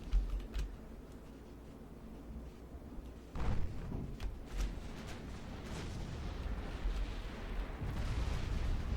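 Heavy naval guns fire at the Drake in the warship game Ultimate Admiral Dreadnoughts, a string of deep booms and rumbling impacts over a low, steady battle din, with a sharper burst of blasts midway and distant thuds trailing on.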